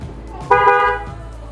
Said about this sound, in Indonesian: Ya, klakson udah dipasang. Sekarang kita cek suaranya dari dalam mobil